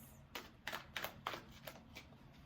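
Quiet shuffling of tarot cards close by: a series of five or six soft riffling bursts in quick succession, with no talking.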